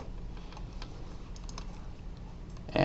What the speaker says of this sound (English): I just went to my search box. I typed